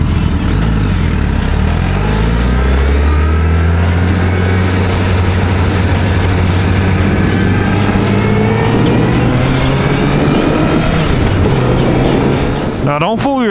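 Motorcycles passing on a road, engines rising and falling in pitch as they go by, heard over constant loud wind roar from a riding motorcyclist's helmet.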